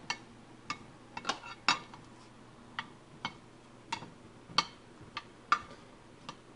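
Carrots are dumped into a bowl and mixed, a quiet scatter of irregular sharp clicks and taps against the bowl with no one speaking.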